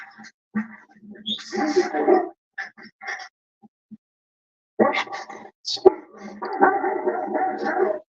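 A Rottweiler barks in a few close bursts between quieter gaps, heard outdoors alongside other dog noises and someone talking.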